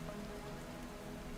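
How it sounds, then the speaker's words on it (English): Steady rain pattering on a surface in a Rust-made video game, a soft continuous hiss with no voices. "this rain is kind of hitting this at the wrong place"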